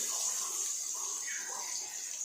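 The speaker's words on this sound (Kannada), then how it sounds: "ಮೊದಲು ಕೈಯನ್ನು ಚೆನ್ನಾಗಿ ತೊಳಿಬೇಕು" Tap water runs steadily over hands being washed in a home kitchen during pizza making, a soft continuous hiss and splash throughout.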